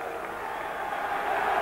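A boxing arena crowd roars and applauds for Frank Bruno after his win over Pierre Coetzer, a dense, sustained wall of cheering that swells slightly toward the end.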